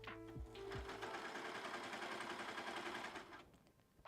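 A sewing machine stitches fabric in a fast steady mechanical run lasting a few seconds, close and fairly loud, then slows and stops.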